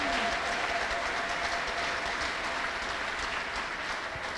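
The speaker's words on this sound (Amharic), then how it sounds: "አጨብጭቡልኝ።" A congregation applauds steadily and loudly at a church healing service, dense continuous clapping filling the whole stretch with no voices on top.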